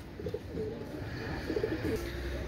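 Pakistani fancy pigeons cooing softly at close range, several low throaty coos repeating irregularly over a faint background hiss.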